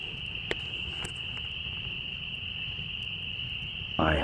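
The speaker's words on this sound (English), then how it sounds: "I hope all the sound of those spring peepers is coming through the audio." Spring peepers call at night at an early-spring campsite, a continuous high, shrill chorus that fills the air, with a few sharper nearby peeps and a brief rustle at the end.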